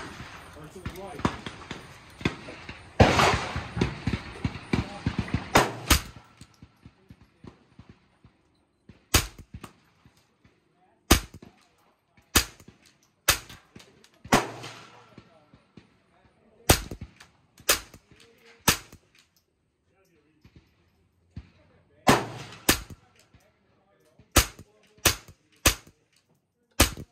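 Ruger 10/22 rifle shots ring out at an outdoor range, sharp single cracks spaced a second or more apart, with a quicker cluster near the start and people talking between shots.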